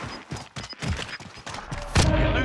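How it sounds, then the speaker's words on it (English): Rapid bursts of gunfire in the video game Warzone Pacific, a fusillade of close, sharp shots with thuds, ending in a louder, denser burst of firing. "Somebody shooting from somewhere."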